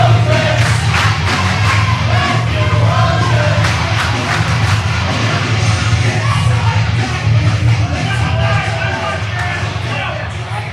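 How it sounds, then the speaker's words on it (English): A crowd cheering and yelling at an RWA Devils Night wrestling match after a pinfall, loud and continuous for about ten seconds, a dense roar of voices with shouts rising out of it. "Listen to this crowd."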